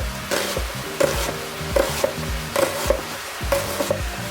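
Onions caramelizing in a pan over the stove, a steady soft sizzle broken by repeated scraping and stirring strokes of a utensil against the pan, close up with no talk.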